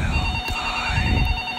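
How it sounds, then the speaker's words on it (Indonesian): A telephone rings in the horror video game Jack Is Missing, a short, steady electronic ring with a faint ambient rumble beneath and no speech. "Ada suara telepon."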